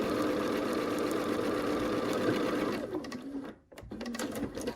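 A sewing machine stitching a quilt block seam, a steady close motor whir with rapid needle chatter that slows and briefly stops near the end, then restarts, with no voice.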